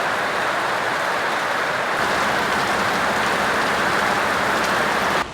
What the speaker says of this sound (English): Up over the house we go in the pouring rain.